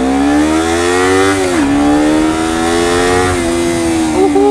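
A Honda CBR250RR motorcycle engine accelerating in second gear, its steady rising whine climbing in pitch, dipping briefly at a shift of throttle, then climbing again, loud and close with no voices.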